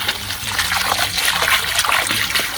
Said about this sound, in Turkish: Burada bir hortumu açmıştık. güzelce yıkayalım.